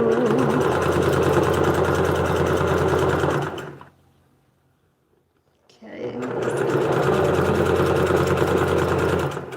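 A sewing machine hums and rattles steadily as it stitches yellow ruffle fabric, stops briefly while someone speaks softly, then starts up again just as loud.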